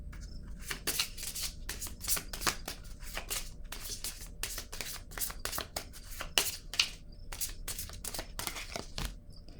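Tarot cards shuffled and drawn by hand, a close, quiet series of crisp riffling snaps and slides in irregular bursts that runs throughout.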